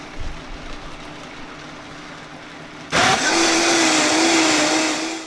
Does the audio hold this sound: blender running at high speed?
yes